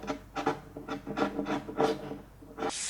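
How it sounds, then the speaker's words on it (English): Repeated rasping strokes of a hand tool beveling the top edges of a wooden garage post, about six rhythmic passes, close and moderately loud. "We need to bevel the edges on the top."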